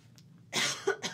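A single person coughs sharply once near the microphone, a short burst followed by a second smaller cough, with quiet room tone before it.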